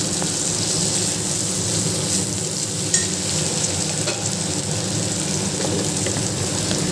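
Grated ginger paste being stirred in a hot cooking pan for a vegetarian curry: continuous crackling sizzle with soft scraping strokes, steady and close, with no voices.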